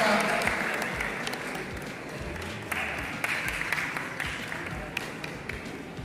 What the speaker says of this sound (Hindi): सभी ताली बजा के